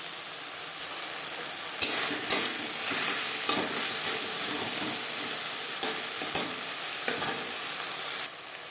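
Ground spice paste with green chilli fries in oil for a rohu fish curry with potatoes, a steady close sizzle broken by several scraping and tapping strokes of a spatula stirring the pan.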